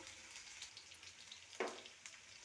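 Mustard seeds, onion, garlic, dried red chillies, cumin and curry leaves frying in a tablespoon of oil for eggplant dal, a steady soft sizzle and crackle with one sharper pop partway through.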